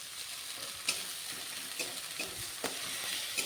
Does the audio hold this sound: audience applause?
no